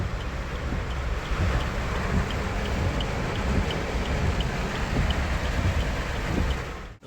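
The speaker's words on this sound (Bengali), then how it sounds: "এতই বৃষ্টি পড়ছে" Heavy rain pours onto a traffic-jammed road at a junction. It makes a steady broadband hiss with wind buffeting the microphone and a faint, regular ticking running through it.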